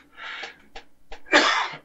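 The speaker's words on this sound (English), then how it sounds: "I got a bit of a cough there" A single person coughs and clears the throat in a few short bursts, ending in one louder, breathy hack, close and otherwise quiet.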